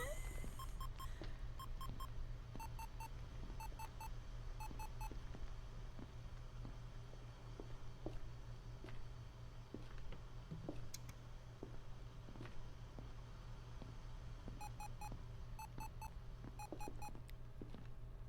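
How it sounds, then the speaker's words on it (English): An ether detector in the video game Project Silverfish beeps in repeated short bursts of rapid electronic tones over a steady low hum, fairly faint and with no talk. "This ether detector beeping is really obnoxious."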